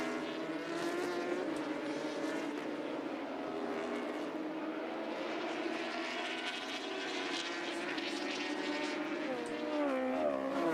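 Stock 1000 racing motorcycles roar around Laguna Seca in a continuous, loud, high-pitched engine wail, pitch rising and falling as the bikes pass through the corners.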